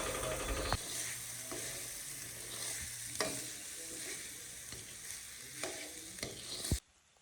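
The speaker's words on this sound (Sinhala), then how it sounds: "ඊට පස්සේ අපි රයිස් දාලා මේ බත් එක හොඳට කලවම් කර ගන්න ඕනේ." Rice being stirred and mixed in a pan with curry leaves and salt, a steady scraping and clinking of a spoon against the pan with a few sharper knocks, close and moderately loud, no voices.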